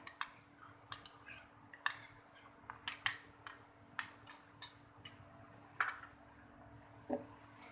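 A spoon taps and scrapes against a pan while stirring tomato-ketchup pizza sauce, giving a dozen sharp, evenly spaced metallic clinks over quiet background.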